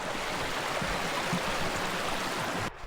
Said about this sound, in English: we can hear Raven Cliff Falls off in the distance